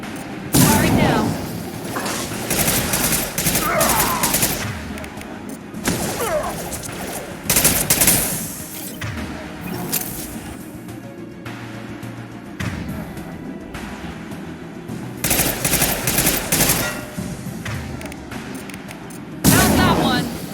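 Repeated weapon fire from Mass Effect 2 combat: bursts of gunfire and heavy blasts recur throughout, loud and dense, with game sound and speech-like voices mixed in.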